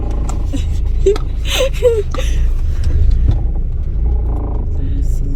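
Steady low engine and road rumble fills the inside of a moving car on a short drive to a nearby KFC, loud and continuous, with brief soft vocal sounds from passengers on top.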